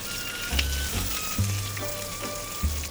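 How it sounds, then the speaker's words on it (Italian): Blue lobster sears flesh-side down in a hot pan, giving a soft continuous sizzle with a few low thumps and clatters of handling in a kitchen. "Cominciamo la tostatura dell'astice dalla parte della carne, così diamo una bella rosolatura"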